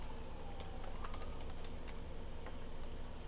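Rapid clicking keystrokes on a computer keyboard while a command is typed at a command line, steady and close, fairly quiet with no voices.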